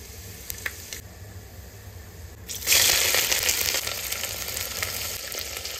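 Black pepper and bay leaves hit hot oil, starting with faint crackling and then swelling into a loud, steady sizzle and hiss that carries on to the end.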